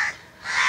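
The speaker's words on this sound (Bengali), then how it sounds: "এই কাকেরা কী জানি খাচ্ছিল" Crows near a riverbank give two short harsh caws, one at the start and a louder one at the end, with a quiet gap between them.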